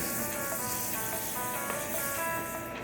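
A pancake frying in butter, a steady close hiss and crackle of sizzling batter that keeps on evenly for a few seconds with no talking.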